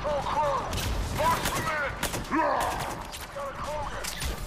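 Gunfire rattles through a firefight in the video game Mass Effect, with repeated bursts and sharp shots layered under excited talk from players and in-game characters.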